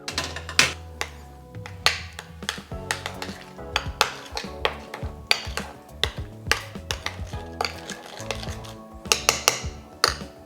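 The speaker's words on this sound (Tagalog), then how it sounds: "Tapos haluin nyo lang." Stirring breading mixture for potato slices in a kitchen bowl, a steady run of light clinks and taps of utensil against dish, close and fairly quiet, with irregular rhythm and no talk.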